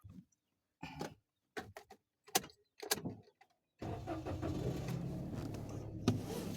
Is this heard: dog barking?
no